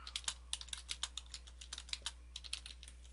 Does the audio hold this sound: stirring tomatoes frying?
no